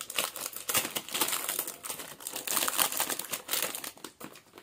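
A perfume package wrapper crinkles and crackles as it is opened, close and busy handling noise in quick uneven bursts with no talking.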